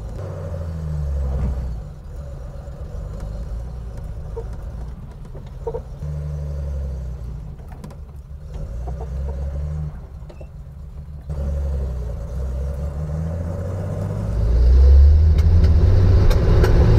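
A home-built Datsun 240Z engine idling with a low, steady rumble, then the revs rise as the car pulls away, loud and close throughout.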